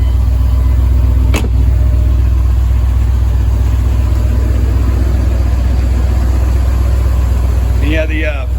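A 2000 Chevrolet 2500 4x4 pickup with a Vortec 454 engine idles steadily and loudly up close, a deep constant rumble throughout, with a brief click near the start and a short voice at the end.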